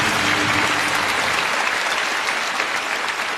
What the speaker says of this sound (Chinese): 热烈的掌声送给三位